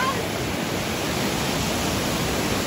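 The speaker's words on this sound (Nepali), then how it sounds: "त्यहाँ पानी खसिरहेको छ छाँडाबाट" A waterfall on a river in a rural tourist spot crashes in a constant, loud, broadband roar with no breaks and no voices above it.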